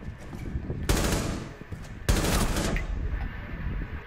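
Two sharp bursts of rapid gunfire crack out in Rainbow Six Siege, each followed by ringing noise, the second burst longer and sustained.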